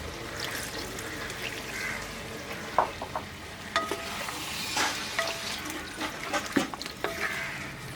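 A splash of water hits sizzling chicken curry in a hot pan, setting off a loud, bubbling hiss with stirring scrapes and clinks, close and continuous.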